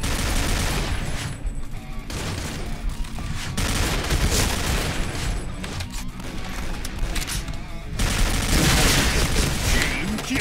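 Heavy, continuous gunfire crackles through a PUBG match, dense overlapping shots and booms at loud level, with two short lulls before the shooting resumes.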